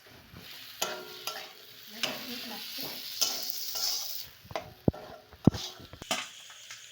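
A spatula scrapes and stirs a curry with fried peanuts in a pan, giving a soft continuous sizzle broken by several sharp knocks and clinks against the metal.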